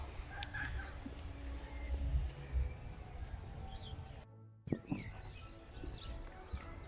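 Small birds chirp and call intermittently in a cemetery, faint and somewhat distant over low ambient rumble, with a brief dropout midway.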